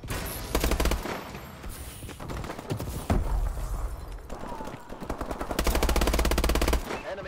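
Sustained rapid automatic gunfire in the video game Call of Duty Advanced Warfare, loud and dense with overlapping bursts and brief gaps.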